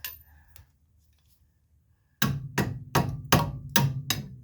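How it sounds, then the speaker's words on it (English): Hammer striking a lower ball joint on a 2002 Nissan Pathfinder: after a faint knock and near silence, six sharp metallic blows land in quick succession, loud and close. "Hammer, this will work."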